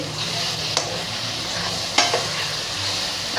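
Capsicum stirred and sautéed in a pan for pav bhaji gives a steady sizzle-and-fry hiss throughout, with a couple of sharp spatula scrapes and clinks standing out near and clear.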